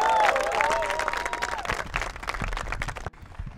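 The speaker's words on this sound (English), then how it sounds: "Another round of applause for our distinguished principal." A crowd applauds loudly with dense clapping and some cheering, fading out abruptly near the end.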